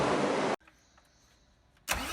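A MAN D2676 common rail inline six-cylinder diesel engine built by MAN Truck and Bus is started, with loud bursts of running engine noise separated by a quieter pause, heard close with no talk.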